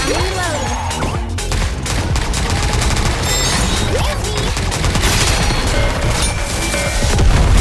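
Rapid bursts of heavy gunfire from an oversized gun in the game Goddess of Victory NIKKE, loud and continuous, with booming impacts and crashes layered through the whole stretch.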